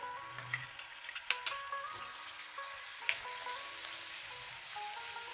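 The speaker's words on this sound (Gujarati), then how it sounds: "થોડી હિંગ એડ કરીશું આપણે અને બધું મિક્સ કરી લઈશું" Asafoetida and a spoonful of garlic chutney stirred in a pan for a Kathiawadi-style green chickpea curry, giving a faint, steady sizzle with a few light spoon clinks against the metal and no talking.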